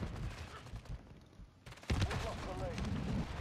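Sniper rifle fire in the Sniper Elite video game, a burst of sharp, loud gunshot cracks and rumbling game action, with a louder shot around the two-second mark and a voice talking over it.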